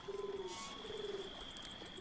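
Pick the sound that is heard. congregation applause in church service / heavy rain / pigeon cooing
pigeon cooing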